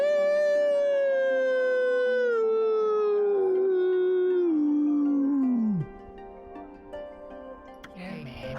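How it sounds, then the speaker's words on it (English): The wolf Shiranui in the video game Okami lets out one long, loud, sustained howl that slowly falls in pitch before cutting off, followed by quieter game sounds. "the majestic wolf gazed heavenward and unleashed a mighty howl"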